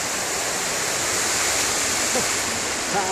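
Floodwater rushes down a street in Elche, Spain during heavy flooding, a loud unbroken roar of moving water filling the scene, with a voice faintly heard near the end.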